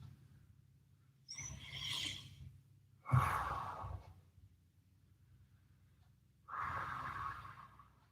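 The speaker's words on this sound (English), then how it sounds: "Big deep breaths." Three slow, deep breaths during a recovery stretching workout, each a long audible exhale roughly two seconds apiece with quiet pauses between, close and without talk.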